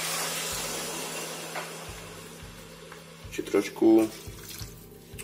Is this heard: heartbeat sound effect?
no